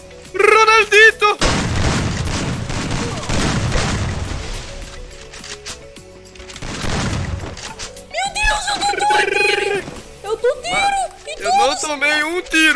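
Heavy booming grenade blasts and bursts of game gunfire fill the first half, then excited voices talk over lighter effects.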